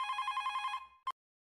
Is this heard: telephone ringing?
yes